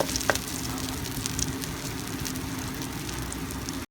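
Egg omelette batter fries in a pan over a low flame, a steady close crackling sizzle that runs evenly throughout with a few faint pops.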